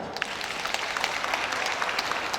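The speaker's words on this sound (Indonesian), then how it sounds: "tepuk tangan" Audience clapping at a storytelling workshop for kindergarten teachers and principals, a dense steady patter of many hands lasting throughout, with no voices rising above it.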